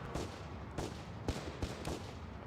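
Gunfire in the video game Urban Chaos: a rapid series of about five sharp, punchy shots fired in quick succession with a roughly even rhythm, close and loud over a low background rumble.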